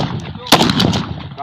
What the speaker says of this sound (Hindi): लोड ओए फायर